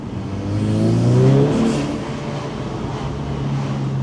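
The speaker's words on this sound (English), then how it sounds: "you can hear it spooling, which I think is a fabulous sound" VW Scirocco R with remap and aftermarket exhaust under acceleration, engine note rising with a whistling turbo spool that swells and peaks around mid-clip, then settles into a steady cabin drone.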